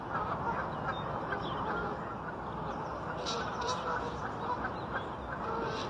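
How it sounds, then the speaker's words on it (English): A flock of geese honks and squabbles as resident birds fight off newcomers, a dense, continuous clamour of overlapping calls at close range with no pause. "All these geese get to fighting."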